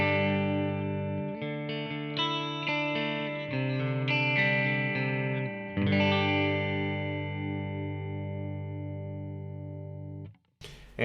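The middle pickup of a Telecaster electric guitar plays a clear, bright melody of sustained single notes and chords, close and steady, ending with a brief pause and a scrape.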